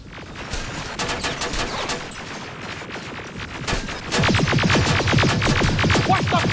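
Sustained gunfire in Terminator: Resistance, a dense rapid volley of shots that swells louder and faster toward the end, with no speech over it.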